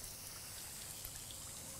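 Steady, gentle trickle and pour of water from a garden hose, the flow turned down low while rinsing a horse's head; a continuous soft splashing hiss with no voices.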